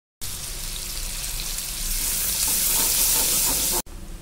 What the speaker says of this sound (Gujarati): અહીં લસણ અને મરચાં સરસ રીતે ચતરાઈ ગયા છે, તો તેમાં આપણે કટિંગ કરેલી ડુંગળીને એડ કરશું.